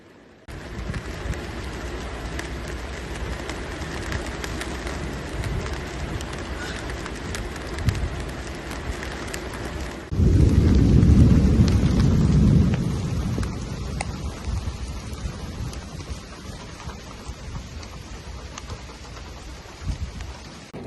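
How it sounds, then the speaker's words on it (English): A thunderstorm with rain and lightning: a constant wash of rain hiss, then a deep, loud thunder rumble rolls in midway and slowly fades back into the steady downpour. "The thunder and lightning has moved in."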